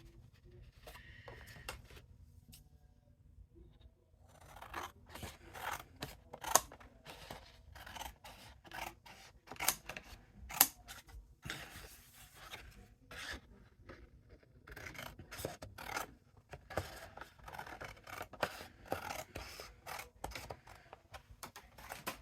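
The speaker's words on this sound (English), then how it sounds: "I'm going to take another piece of white paper and I'm going to cut it the same size." Scissors cut white paper to size in a long run of rapid, crisp snips and slicing strokes, close and fairly quiet, with occasional paper rustles between cuts.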